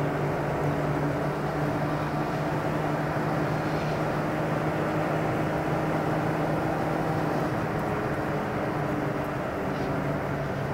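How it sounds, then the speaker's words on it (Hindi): A loud, steady roar of a car driving on a busy road, a Suzuki Cultus racing an Alto Turbo, with constant engine and road noise filling the whole stretch and no talk. "बड़ा शोर है यार इसकी गाड़ी का तो"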